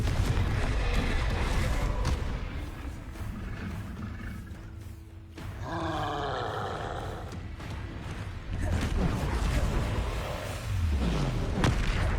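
A Confringo blasting spell bursts in Hogwarts Legacy, a loud roaring blast with rumbling low end amid constant game noise, followed by further crackling impacts.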